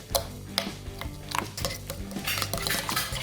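Scooped-out avocado being mashed with a fork in a bowl for avocado toast, heard as a close run of clinks and scrapes that grows busier toward the end, with faint background tones underneath and no talk.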